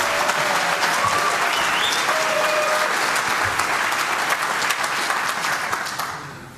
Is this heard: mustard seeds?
no